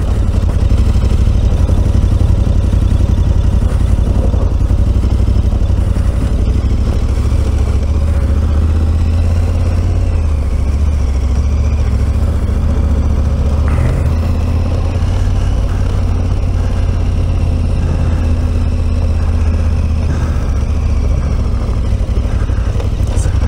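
Onboard a KTM 1290 Super Adventure motorcycle climbing a rough mountain road to Fort Pramand and Monte Jafferau, the big engine drones loud and steady under wind rush and faint rattles.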